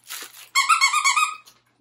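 Sea-themed plush dog toy squeaking near and loud, a brief squeak followed by a longer, sustained squeal of rapid squeezes, with no talk.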